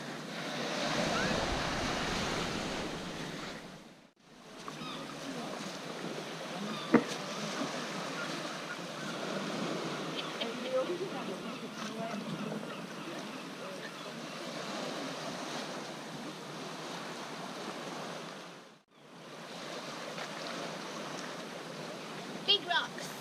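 Steady wash of surf breaking on a small rocky beach on Brittany's Pink Granite Coast, mixed with wind buffeting the microphone, continuous and fairly close with two brief dropouts.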